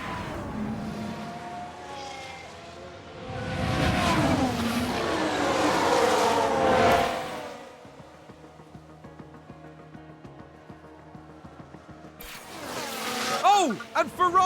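Formula 1 cars in the F1 Manager 22 racing game roar past as cars run wide off the track, a loud rising engine surge that fades into quieter mechanical background, then another quick high-revving pass near the end.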